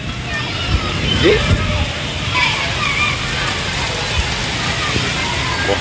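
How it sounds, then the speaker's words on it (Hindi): Heavy stormy rain pours down in Karachi, a dense continuous hiss and splash filling the scene while someone talks over it. "शदीद बारिश हो रही है इस वक्त कराची के अंदर।"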